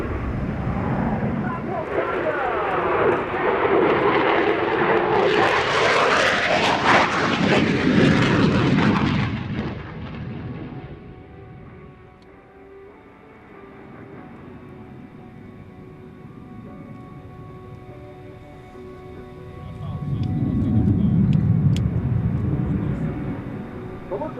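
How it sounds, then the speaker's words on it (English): Raptor jet fighter passing overhead in a slow-motion turn during an air show, a loud broadband engine roar swelling then fading, with a distant rumble returning near the end under crowd and announcer talk. "Is going to perform slow motion turn which requires a great flight control ability of aircraft"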